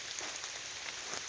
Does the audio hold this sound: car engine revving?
no